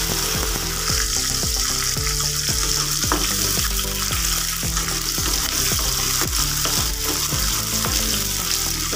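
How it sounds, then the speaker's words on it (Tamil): Whole peeled small shallots sautéing in hot oil in a village-style Tamil kitchen, a steady loud sizzle with rhythmic scraping strokes of a stirring spoon about every half second, no voices. "வெங்காயத்தை நல்லா வதக்கிக்கலாங்க."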